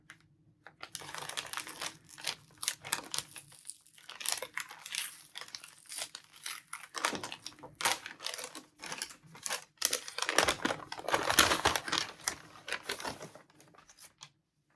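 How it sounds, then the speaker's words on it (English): Crinkly plastic and paper packaging rustles and tears in bursts as a Christmas advent calendar compartment is unwrapped up close, with no talking. "so are we ready for rustling?"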